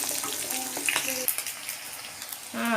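Beef pieces frying in hot oil until crisp for dendeng balado, giving a steady close sizzle with scattered pops and a few stirring clinks, loudening again near the end.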